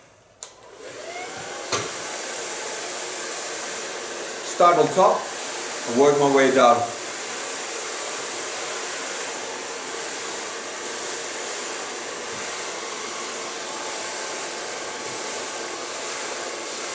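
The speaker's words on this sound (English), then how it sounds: "and my Keunen blow dryer." Keunen blow dryer running steadily as hair is dried with a medium brush in a salon, a constant loud whirring hum throughout, with a person speaking briefly over it.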